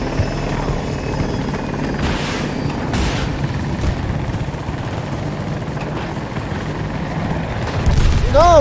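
A helicopter crashes in a PC war video game: a loud ongoing rotor drone broken by heavy booming impacts, with a rising, wavering tone and a louder surge at the end.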